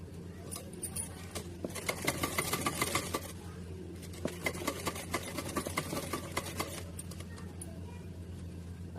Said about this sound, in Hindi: तो हम यहाँ से स्टार्ट करते हैं सिलाई।